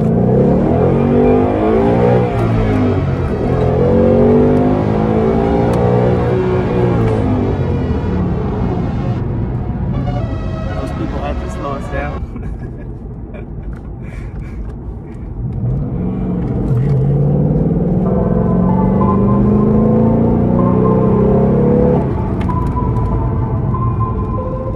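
A Race Red 2018 Ford Mustang GT with a manual gearbox accelerating hard in a pull, its engine rising loud and near, with a brief dip at a gear change before it climbs again, with no voices.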